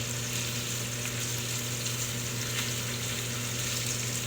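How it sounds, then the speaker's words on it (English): Chicken with herbs slow cooking in a covered pan gives a steady, even sizzle with a low hum underneath, continuous and moderately loud with no talking. "I'm gonna cover it and slow cook this so the flavors will be more concentrated."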